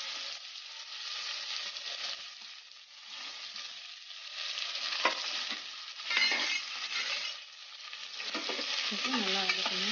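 Onions fry in a pan for coconut milk rice, a soft, steady sizzle that swells and fades as they are stirred, with light scraping and crackling throughout.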